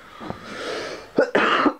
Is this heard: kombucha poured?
no